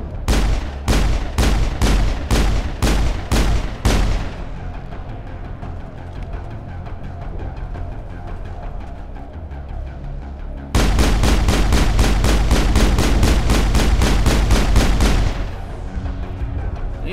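Sniper rifle fire in Mass Effect on the Xbox 360 comes as loud, evenly spaced shots. A quick run of about six cracks is followed by a quieter lull, then a longer, faster volley of around twenty shots.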